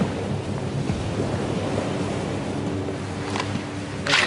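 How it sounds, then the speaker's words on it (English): Heavy ocean surf smashing into buildings roars continuously, with wind rushing across the microphone and a couple of sharper crashing bursts near the end. "huge ocean waves smash directly into buildings"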